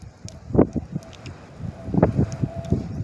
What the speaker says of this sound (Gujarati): પવને બહુ છે ભાઈ.